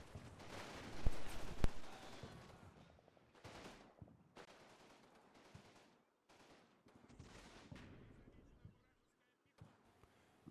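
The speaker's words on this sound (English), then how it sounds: "As heavy artillery lands in the enemy trenches, the explosions send shrapnel flying in all directions" Heavy artillery fire and explosions in the WWII war game Combat Mission: Red Thunder, with booming blasts and bursts of rattling gunfire that come in irregular waves, loud at first and then quieter and more scattered.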